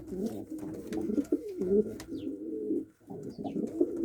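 Platinum and white-tailed game pigeons coo in soft, low, rolling calls that run almost continuously at close range, with brief pauses and no talk.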